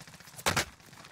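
A single loud, close gunshot burst with a quick doubled crack rings out in Call of Duty: Warzone, standing out sharply above quieter game ambience.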